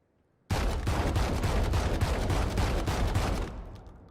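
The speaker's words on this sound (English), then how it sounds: "The Judge. This is a fully automatic shotgun." The Judge, a fully automatic shotgun in Valorant, fires a rapid, loud burst of about a dozen booming blasts over three seconds, each shot close and punchy, ending in a short fading tail.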